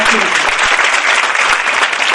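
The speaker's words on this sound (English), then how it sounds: "So give yourself a clap if you participated in the" Dense, steady applause from a workshop audience at a Montessori training session, loud and continuous throughout, with no talk over it.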